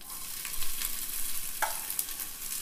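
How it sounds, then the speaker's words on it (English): Diced onions sizzling in olive oil in a pot, a steady close hiss of frying with occasional stirring scrapes and clinks, no talk over it. "This way, it just cooks the onions evenly"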